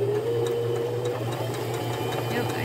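A Brother JX3135F home sewing machine stitching a blind hem into folded fabric, a steady close mechanical whir with rapid rhythmic needle ticking, running continuously without pause.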